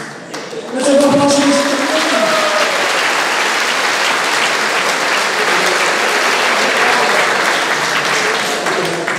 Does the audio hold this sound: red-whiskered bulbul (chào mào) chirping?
no